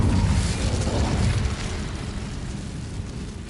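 Incendio fire spell in Hogwarts Legacy erupts as a heavy, booming burst of roaring flame, loud for about a second and a half before settling into a softer fading rumble, no voices.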